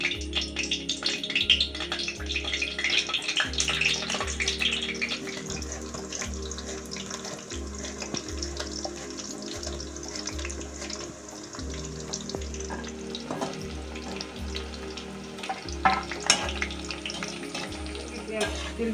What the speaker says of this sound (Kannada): ಚೆನ್ನಾಗಿ ಬಿಸಿಯಾದಂಥ ಎಣ್ಣೆಗೆ ಡೈರೆಕ್ಟ್ ಚಿಪ್ಸನ್ನು ಹಾಕ್ಕೊಳ್ಬೇಕು.